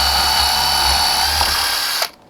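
A power drill bores holes through a curved surface while making a butterfly and frame ensemble, a loud steady motor whine with a low rumble that runs evenly, then cuts off abruptly near the end, leaving quiet.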